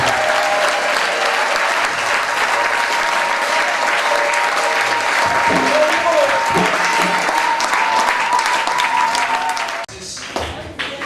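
A church congregation applauds steadily and loudly, with crowd voices mixed in, before the clapping drops away abruptly near the end.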